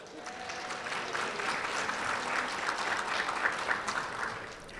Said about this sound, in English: Give yourselves a hand, Murfreesboro.